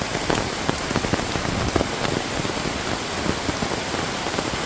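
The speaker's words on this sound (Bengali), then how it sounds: "বৃষ্টি অনেকেরই ভালো লাগে, এই কারণে বৃষ্টি ভিডিওটা করা।" Rain pours down under a clear sky, a loud, dense, continuous patter of drops striking surfaces nearby.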